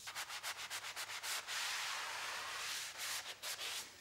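Sanding wall panels by hand: quick, rhythmic rasping strokes, then a longer steady scrape, then short back-and-forth strokes again, close and loud, with no voices.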